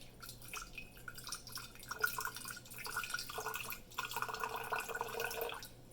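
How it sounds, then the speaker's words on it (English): Water poured from a glass into a jar, a faint, close trickle with light splashing and dripping that comes in bursts over a quiet background. "I'm going to take my glass of water and pour a little bit of it into the jar"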